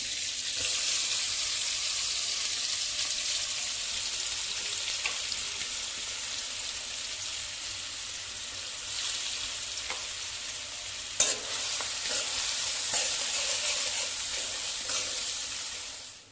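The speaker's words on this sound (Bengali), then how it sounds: "তো পেঁয়াজটা ওখানে ফ্রাই হচ্ছে, হালকা ব্রাউন করবো জাস্ট" Two chopped medium onions fry in butter in a pan with a steady, bright sizzle throughout, broken by an occasional stir or utensil knock, and no one speaking.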